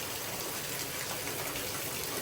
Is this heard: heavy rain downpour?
yes